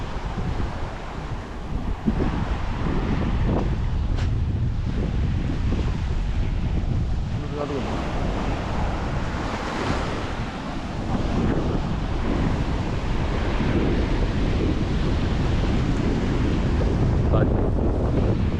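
Sea waves and steady wind along the shore of Blue Beach island, a continuous broadband rush with surf swells rising and falling throughout, wind buffeting the microphone close up.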